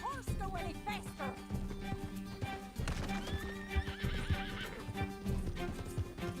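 Horse in the Red Dead Redemption 2 video game galloping with steady clip-clop hoofbeats and repeated loud neighs and whinnies, set over busy in-game music and ambience.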